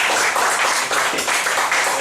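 Audience applause in a university lecture hall welcoming a professor, a dense, close burst of many hands clapping at a steady level throughout the short span.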